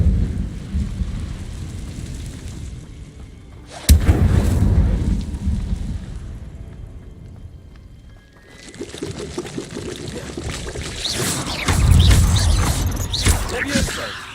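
Incendio fire spell cast in Hogwarts Legacy, a sudden burst at about four seconds followed by a roaring, crackling whoosh that fades, then a second loud surging blast of flame rising toward the end.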